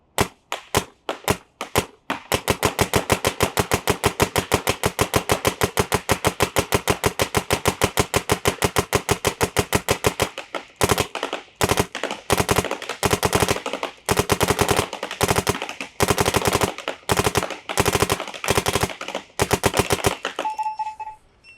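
Paintball marker firing GI 5-star paint outdoors: a brief burst of sharp shots, then a long rapid string of evenly spaced pops, followed by looser bursts and short volleys, loud and close with no talking.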